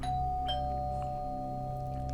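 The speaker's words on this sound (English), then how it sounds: "I ring the doorbell" A doorbell rings at a house during a food delivery, a faint sustained electronic chime tone heard alone.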